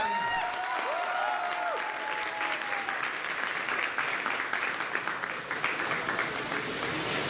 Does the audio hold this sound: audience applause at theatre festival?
yes